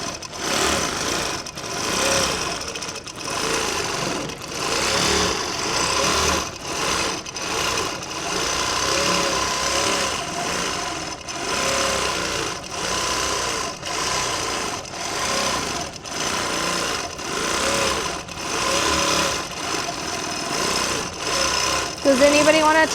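A quilting sewing machine motor runs during free motion stitching, its hum swelling and dipping in repeated short bursts as the speed changes, with a person talking over it.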